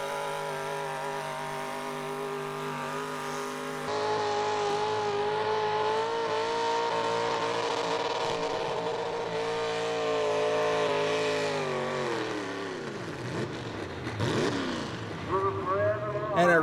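Plum Crazy, a high output pulling truck, runs its engine during a truck pull, a loud sustained roar that climbs and shifts pitch, then drops and sputters near the end as if not running quite right.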